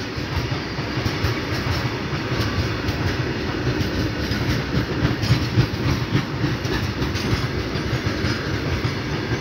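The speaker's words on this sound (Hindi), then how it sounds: "this is a Python freight train guys" A long python freight train rolls past on the rails, a loud, close, continuous rumble with rhythmic clickety-clack from the wheels and no letup.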